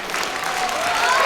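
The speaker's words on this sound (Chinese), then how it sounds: "让我们再次热烈的掌声送上我们的祝福" Wedding guests applaud steadily in a broad, dense wash of clapping that holds loud and even throughout, with a faint crowd murmur beneath.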